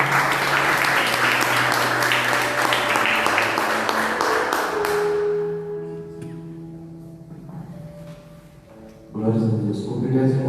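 A church congregation claps together in loud, fast applause for about five seconds, then the clapping dies away to sustained organ-like tones before a swell of sound returns near the end.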